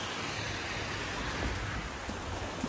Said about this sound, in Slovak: Dobre sa rozpršalo.